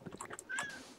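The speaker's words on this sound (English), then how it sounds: "I was hearing meow for some reason on the live stream." A single cat meow, fairly close, with a rising and falling tone and a few softer vocal sounds just before it.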